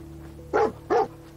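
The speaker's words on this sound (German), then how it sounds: "Ja, hör mal auf zu bellen, was ist denn?" Two loud, close dog barks about a third of a second apart from a dog in the video game Fallout 4, over a steady low game hum.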